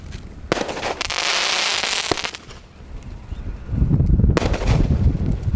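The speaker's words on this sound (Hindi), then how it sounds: "ये चला हमारा रविंद्रास का 12 का शॉट, देखते हैं ये कैसा चलता है।" A 12-shot Diwali firework cake fires outdoors, loud bursts with crackling bangs and rushing hiss in several waves, close by, with no talk.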